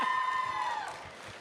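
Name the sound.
audience applause welcoming Kelechi Okafor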